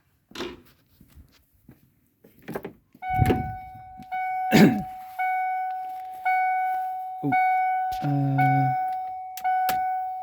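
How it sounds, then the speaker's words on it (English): A 1994 Ford Ranger's door-open warning chime rings in a repeating series of clear electronic dings, mixed with door thunks, rustling and a brief clatter. "Close the door so we don't have to hear that chime"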